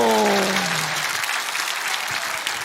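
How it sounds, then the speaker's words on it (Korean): An audience at a Liberty Unification Party meeting in Korea breaks into sustained, dense applause right after a brief spoken word, the clapping continuing steadily to the end. "이것도 박수 한번 치고 넘어가야 돼."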